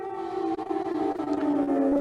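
Civil defense air raid siren wailing steadily during wartime alerts, a continuous loud tone slowly falling in pitch across the whole stretch with no voices.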